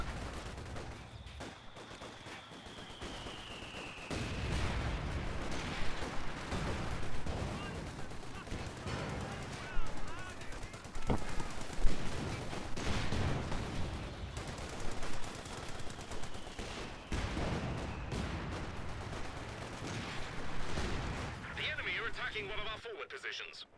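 Mortar blasts and gunfire from the Company of Heroes 2 video game, a dense, steady barrage of battle noise with repeated sharp bursts, heard under continuous talk.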